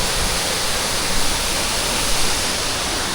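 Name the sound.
waterfall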